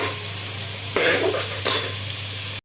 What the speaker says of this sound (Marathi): कांदा चांगला कोमून घेऊया चांगला मस्त लालसर बनवू दे